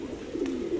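Pigeons kept at home, a loft of five or six birds, give a soft low cooing that hums steadily and close through under a second, with no talking.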